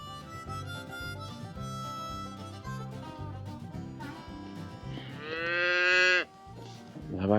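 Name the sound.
cow mooing near her newborn calf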